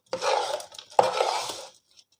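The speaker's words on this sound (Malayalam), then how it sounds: "ഈ അവിലേക്ക് ഈ ശർക്കരയും നാളികേരമൊക്കെ നന്നായി മിക്സ് ചെയ്ത് കിട്ടണം അതിന് വേണ്ടിയിട്ട് നന്നായി നമ്മൾ മിക്സ് ചെയ്ത് കൊടുക്കണം" A large vessel rings with scraping and clattering as a spoon stirs flattened rice with jaggery and coconut for a Kerala snack, in two close strokes with a sharp knock between them.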